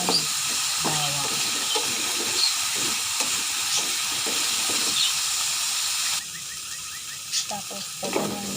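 Chicken pininyahan in coconut milk with carrots and potatoes cooking in a pot, a constant close hiss and sizzle of steam with intermittent stirring scrapes, and someone talking over it throughout.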